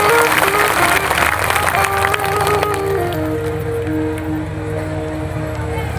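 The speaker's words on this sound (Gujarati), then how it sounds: "અને તમે તાળી પાડો છો" A crowd at a village jayanti celebration for Bhathiji Maharaj claps together, a dense wash of applause loudest at first and thinning out, with tonal background sounds underneath.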